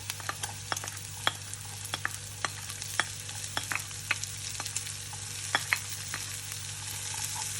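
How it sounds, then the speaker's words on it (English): Courgette, yellow pepper and tomatoes fried lightly and stirred in a pan, giving a steady sizzle under a series of sharp scraping and tapping stir strokes, close and fairly even throughout. "And give them all a good stir. And we just fry them lightly."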